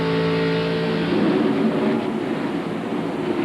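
A Ford stock race car engine drones steadily at Darlington during a 1997 Busch Grand National race, a continuous loud hum that swells briefly then settles, with no talk.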